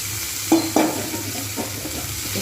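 Washed drumstick flowers tipped into a hot frying pan make two quick scraping thuds followed by a soft, continuous sizzle and light stirring, close by with no talking.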